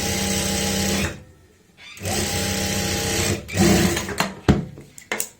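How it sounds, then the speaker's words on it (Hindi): A sewing machine stitches a pocket onto fabric in loud, fast mechanical bursts, pausing briefly between runs, with a few clunks near the end. "अब हम इसको ऐसे इस तरीके से पलटते हुए यहाँ पे ऊपर से लगा लेंगे सिलाई"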